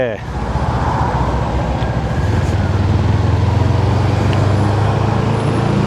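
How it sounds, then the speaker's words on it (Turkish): A TOGO TG250 scooter braking suddenly with ABS engaging, heard from the rider's position as a steady low road and engine rumble with wind and traffic noise, a short braking transient near the start. "Ani fren işte ABS."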